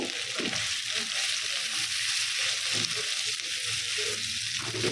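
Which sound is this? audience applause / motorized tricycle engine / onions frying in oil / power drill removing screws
onions frying in oil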